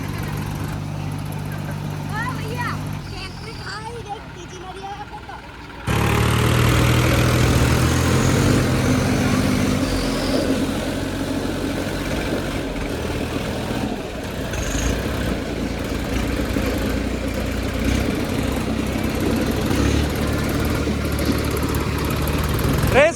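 A Massey 4x4 tractor engine labours during a tug of war against another tractor, first idling then surging to a loud, steady, throaty roar, with people shouting over it.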